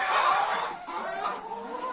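Hens in a farm flock of about 360 cluck and chatter close by, a busy overlapping flock noise with no talking.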